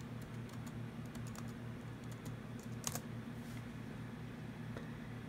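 A password typed on a computer keyboard during a Mac OS X install, heard as faint, scattered key taps spread over several seconds above a steady low hum, with no talk.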